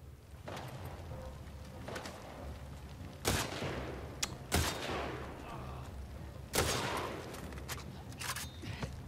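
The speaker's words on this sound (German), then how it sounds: "Wieder drei Schüsse, Mann." Sharp gunshots crack at irregular intervals in The Last of Us Part II, a few sudden loud bursts over a steady background hum, with occasional talk.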